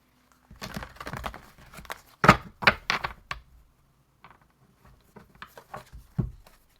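A deck of tarot cards being shuffled by hand: irregular bursts of riffling and slapping card sounds, close and crisp, with quieter patches between them and no talking.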